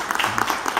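Brief burst of clapping from an audience at a school presentation on a school vegetable garden, a few distinct claps in quick succession, fairly close.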